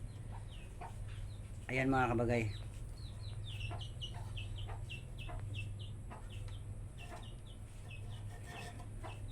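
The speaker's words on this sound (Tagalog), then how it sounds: "bali may pumasok na manok" A chicken that has wandered into a home kitchen clucks in short repeated calls with one louder squawk early on, close by, while a person speaks briefly.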